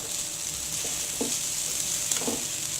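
Mutton chops simmering in water over a slow flame, a steady soft sizzle and bubbling with a few faint stirring scrapes, close up and continuous, with no voices.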